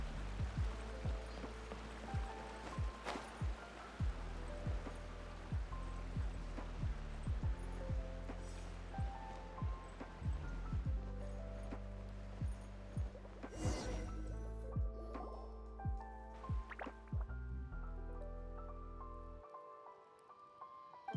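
Water droplets drip one after another in a Genshin Impact cave, each a bright watery plink over a low hum and gentle stream-like background, the drips irregular and fairly close, with a few sharper splashes near the end.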